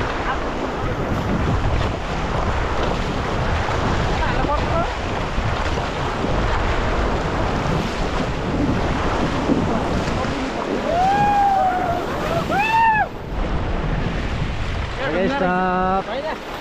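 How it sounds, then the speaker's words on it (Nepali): Whitewater rapids on the Trishuli River rush and churn steadily around a raft, with wind buffeting the microphone throughout and a few short whistle-like tones near the end. "यो छालहरु त ढुङ्गाले बन्ने हो नि तलतिर ढुङ्गाहरू हुन्छ"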